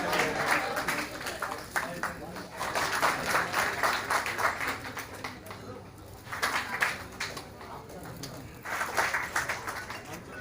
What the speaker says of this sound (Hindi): जोरदार तालियां बजाएं शाम शादी के स्वागत पे